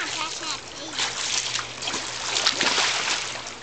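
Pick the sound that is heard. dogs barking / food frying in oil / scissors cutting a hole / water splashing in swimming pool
water splashing in swimming pool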